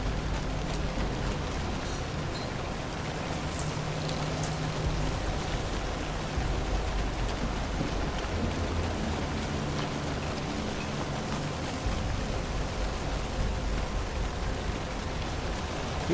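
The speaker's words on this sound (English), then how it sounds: "In the woods with the rain." Steady rain falls through the woods, a constant soft hiss with occasional closer drips, fairly quiet and unbroken, with no voices.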